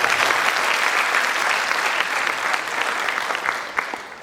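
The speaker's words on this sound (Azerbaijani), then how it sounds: "Alqış insanlar." An audience at an outdoor-style concert in Sabirabad applauds loudly and continuously, dense clapping filling the whole moment and tapering slightly toward the end.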